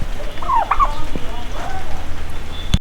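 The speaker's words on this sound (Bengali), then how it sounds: "যে বিশাল বড় বড় টার্কি মুরগি" Large turkeys gobble in a riverside village on a rainy day, with a loud close burst of gobbling near the start, softer calls after it and a sharp click at the end.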